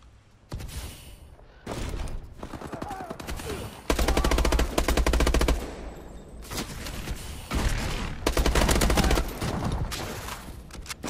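Bal-27 assault rifle fire in Call of Duty: Advanced Warfare, loud sustained automatic bursts separated by short pauses, with several distinct volleys across the stretch and no talking.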